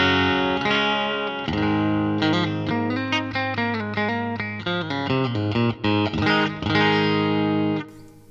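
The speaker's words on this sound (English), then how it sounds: "Bridge pickup on my P90 loaded Les Paul." A P90-loaded Les Paul on its bridge pickup, run through a Two Notes Opus amp sim with spring reverb, plays a busy run of distorted chords and single notes, loud and up front, ringing out before a brief stop near the end.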